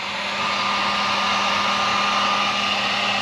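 A heat gun blowing on heat-shrink tubing over speaker wire connections makes a steady, close, loud whooshing roar with a constant motor hum and no talking.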